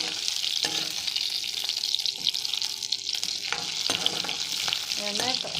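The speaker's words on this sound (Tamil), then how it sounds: "அதோட 4 வரமிளகா போட்டிருக்கேன், அதையும் நல்லா வதக்கிக்கிடுங்க" Shallots and four dried red chilies sautéing in a pan, a steady hissing sizzle with scraping stirs and occasional clinks of the spoon against the pan, continuous and close.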